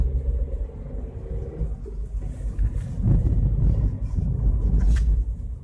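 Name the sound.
small car engine purring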